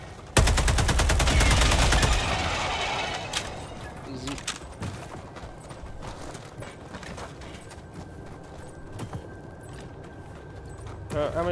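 Rapid bursts of machine gun fire in Helldivers 2 rattle loudly at the start, followed by scattered game sounds and mechanical clicks under a talking voice.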